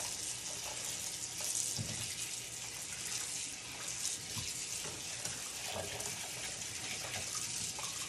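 Cold tap water runs steadily into a sink while a wild turkey breast is rinsed and cleaned, a continuous close hiss and splash with faint handling bumps and no speech.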